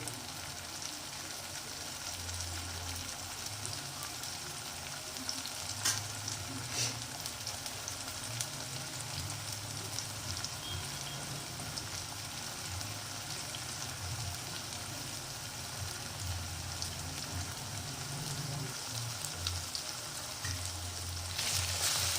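Garlic and ginger frying in oil in a pan for a carrot sabzi, a soft continuous sizzle with faint crackles and a low hum underneath, fairly quiet and unbroken, with no voices.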